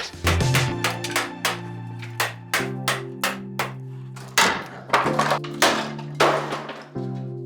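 Repeated hammer strikes ring out at an irregular pace, sharp and close, each blow leaving a brief metallic ring.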